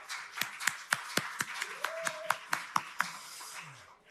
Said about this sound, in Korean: 여러분 다시 한번 응원의 박수, 축복의 박수 부탁드립니다